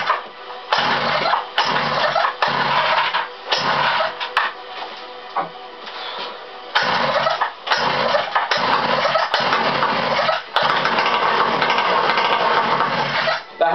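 Repeated pull-start cranking on a cold motorized bicycle engine with the choke on, loud and close, a series of rough bursts separated by brief pauses without catching into a steady idle.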